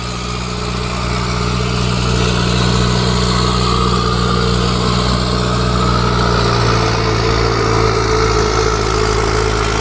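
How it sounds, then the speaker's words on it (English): Loud garbage truck on a beach road, its heavy engine droning steadily and close throughout with a constant low hum and no pauses. "We have a big truck going by here"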